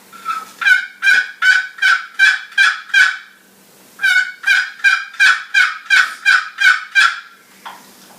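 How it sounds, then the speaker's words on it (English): Two runs of rhythmic, evenly spaced turkey yelps, about a dozen raspy notes each, loud and clear with a short pause between runs. "And the yelp sounds something like this."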